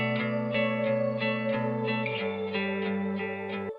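A sustained synth or instrument tone with Decapitator distortion and reverb, moving through a few held notes with a smeared echoing tail, played alone.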